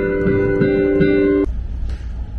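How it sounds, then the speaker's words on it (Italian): GEWA DP345 digital piano with a Steinway sample, a sustained chord ringing loudly then cut off, leaving a faint decaying tail. "Questo è il suono dello Steinway."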